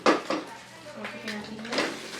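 Cooked rice tipped into a pan for Makassar red fried rice, a few light clinks and scraping knocks of a utensil against the pan under nearby speech.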